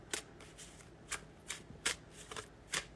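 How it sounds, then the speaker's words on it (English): A deck of tarot-style reading cards being shuffled by hand, with repeated crisp riffling bursts at an uneven pace, close and clear in a quiet room. "If I can shuffle."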